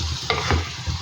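Eggplant pieces are stirred in a hot pan with spice powders, garlic and shallots, giving a brief close scrape and sizzle with a couple of quick stirring strokes.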